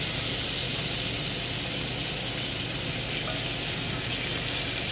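Lollipop lamb chops searing in a very hot, smoking pan give a loud, continuous sizzling hiss close up, steady for the whole stretch with no voices.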